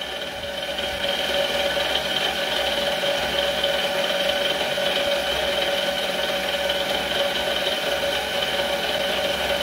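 Mini lathe with a servo motor conversion runs its spindle in low gear, giving a steady, even hum with a faint high whine and light rattle, continuous and close, with no talk.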